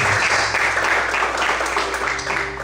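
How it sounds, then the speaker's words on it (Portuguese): A church congregation claps together, a loud steady wash of many hands beating continuously for a few seconds without pause. "Você pode desocupar sua mão e aplaudir o Senhor bem forte com alegria."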